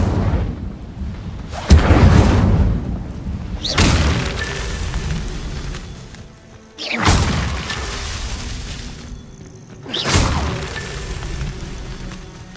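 Incendio fire spells cast in the Hogwarts Legacy video game: four loud whooshing bursts spaced a couple of seconds apart, each flaring up sharply and then roaring away into a fading rumble, with no talk.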